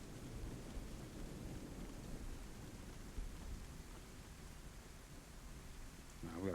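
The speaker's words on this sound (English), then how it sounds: "The storm's getting bad." A thunderstorm in the video game DayZ rumbles low and continuously alongside steady rain hiss, holding loud and even throughout, with a slightly stronger swell near the end.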